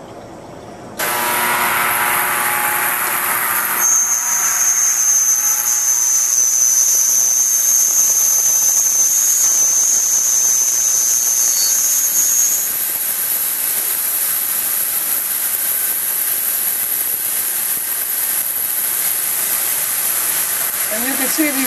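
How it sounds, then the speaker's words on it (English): A Sharpertek ultrasonic cleaning tank runs loud and steady while cleaning window blinds, a constant broad hiss and rush with a high whine in the first half, no voices. "We'll throw this into the ultrasonic cleaning tank here on the basket, and then into the cleaning tank, and we'll allow this to work."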